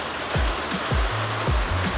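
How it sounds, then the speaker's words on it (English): Cold rain falls outdoors in a dense, steady hiss, with a few low thuds and splashes from nearby footsteps or movement. "Yo, and this rain is cold."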